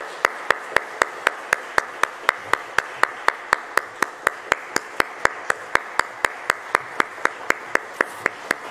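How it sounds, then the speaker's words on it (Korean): A church congregation at a Korean family dawn prayer service claps together in a steady, evenly spaced rhythm, sharp distinct hand claps repeating about three times per second in unison for several seconds. "우리 한번 뜨겁게 박수하겠습니다."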